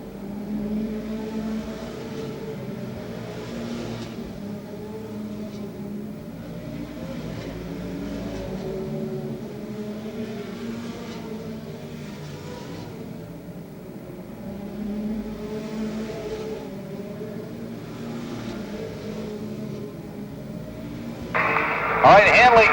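Race cars at Rockford Speedway in the 1981 NSTC 200 drone past in repeated engine swells, the roar fairly distant under a commentator's steady talk.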